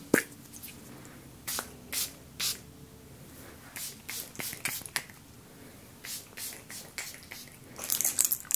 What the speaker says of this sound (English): So I'm just going to spray this around you.